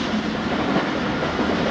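Train running at speed on the Rehman Baba express at night, a steady loud rumble of wheels on rails with faint clickety-clack, continuous and close with no talk.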